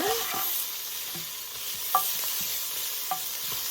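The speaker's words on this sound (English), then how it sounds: "Give it a stir." Spoon stirring peppers into brisket birria in a Ninja Foodi Possible Cooker Pro, with soft scrapes and light clinks at an irregular pace over a faint steady sizzle.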